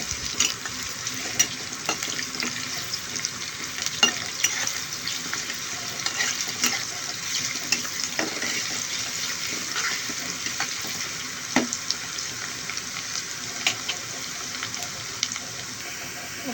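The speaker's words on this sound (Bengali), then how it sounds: "এখন অ্যাড করে দিচ্ছি পেঁয়াজ কুচি আমি এগুলোকে সামান্য একটু ভেজে নিব" Chopped onions fry with a steady sizzle, occasional crackles and stirring clinks, close by and continuous, with no one talking.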